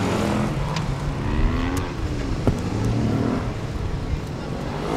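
A Suzuki DR-Z400SM supermoto bike accelerates through a gymkhana course, its single-cylinder engine buzzing and rising in pitch at a moderate distance, with a commentator talking over it.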